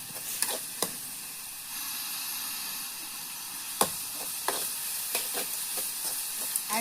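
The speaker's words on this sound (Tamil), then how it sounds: "ஓகே, இப்போ வேகமாக வதக்கலாம்." Ingredients for a wedding-style meat curry sautéed fast in a pan, a steady sizzle broken by sharp scrapes and clinks of the stirring spoon, close and alone with no talk.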